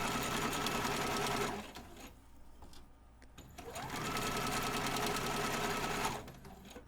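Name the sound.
sewing machine stitching an inseam pocket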